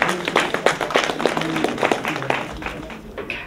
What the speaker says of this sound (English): Give her a round of applause, folks.